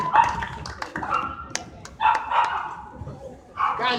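Dog barking in short repeated bursts, mid-distance, mixed with tapping and a voice talking over it.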